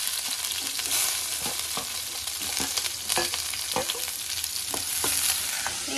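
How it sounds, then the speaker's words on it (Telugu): Onion and green chilli pieces frying in a pan with mustard seeds and urad dal: a loud, continuous hiss and sizzle with scattered pops and stirring scrapes, close by and steady throughout, no voices. "ఇప్పుడు ఉల్లిపాయ ముక్కలు పచ్చిమిరపకాయ ముక్కలు వేస్తున్నాం."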